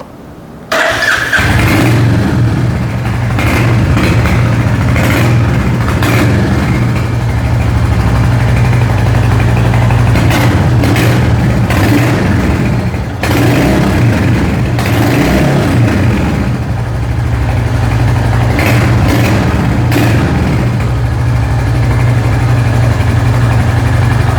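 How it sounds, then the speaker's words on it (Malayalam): A 2025 Royal Enfield Hunter 350 motorcycle engine starts and settles into a loud, steady idle close by, with repeated sharp throttle blips revving up and dropping back. "ഈ ഒരു ബൈക്കിൻ്റെ ഒരു എക്സോസ് നോട്ടിൻ്റെ സൗണ്ട് കൂടെ നമുക്ക് ഒന്ന് കേട്ടോയാം"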